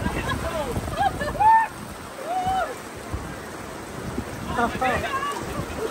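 Rain falls in a desert rainstorm near the Dead Sea in Israel as a soft, continuous hiss, heard behind excited voices talking and laughing.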